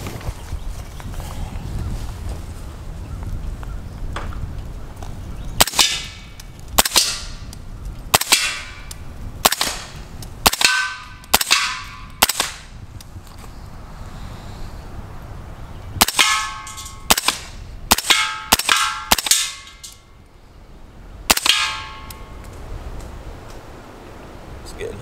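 Suppressed rifle shots from a 300 Blackout rifle fitted with a Leonidas Gen2 integral silencer, about a dozen sharp cracks in two clustered bursts with pauses, outdoors under low background rumble and occasional talk.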